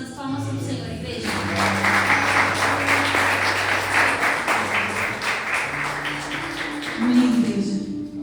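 A church congregation claps in praise during a worship service, a dense, steady round of applause mixed with voices and sustained musical tones underneath.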